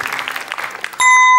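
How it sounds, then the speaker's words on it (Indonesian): A studio audience on the Indonesian game show Family 100 claps for both teams, a quick burst of scattered applause that ends abruptly in a loud, sustained electronic tone. "Boleh tepuk tangan dua tim, seru sekali malam hari ini."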